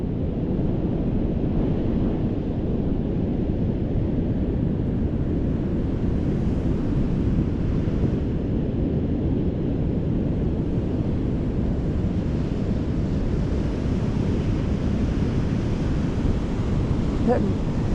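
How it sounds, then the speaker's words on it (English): Ocean swells and surf waves at sunset under hazardous sea conditions, a steady, loud roar of breaking water with some wind buffeting the microphone throughout. "like watching those swells"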